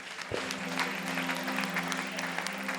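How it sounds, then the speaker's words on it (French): A church congregation applauds at a seminar service, giving a few seconds of steady, moderately loud clapping over a faint sustained tone, with no speech. "Acclame le Seigneur Jésus."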